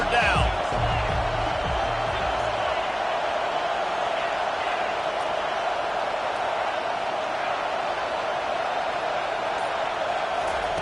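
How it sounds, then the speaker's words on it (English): A loud football stadium crowd roaring behind the defense on third down, a sustained, dense wall of cheering noise with a brief voice near the start. "Decibels rising as the crowd gets behind this defense on 3rd down."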